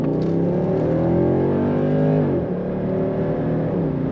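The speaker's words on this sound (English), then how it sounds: "It's refined yet a throaty exhaust note." A 2009 Mercedes-Benz SL63 AMG Roadster engine revs up with a deep, throaty exhaust rumble, rising in pitch as it accelerates, loud and close.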